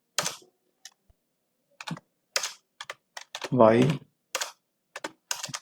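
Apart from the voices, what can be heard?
typing on a computer keyboard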